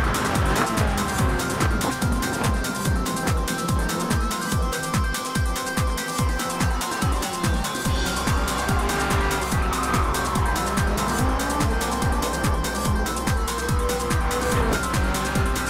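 A drift race car in a racing game, its engine revving steadily with rhythmic gear pulses and long tire squeals as it slides, loud and close throughout, with no talking.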